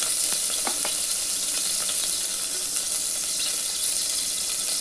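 Cardamom and cloves frying in a spoonful of ghee give a steady bright sizzle with a few small pops and light stirring taps, close and continuous, no speech.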